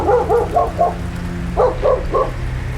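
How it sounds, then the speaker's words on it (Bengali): A dog barks in two quick bursts of several loud woofs each, close by and alone, used as a sound effect within a Bengali horror audio story. "গম গম করে কুকুরের ঘেউ ঘেউ শব্দ শুনতে পাওয়া গেল।"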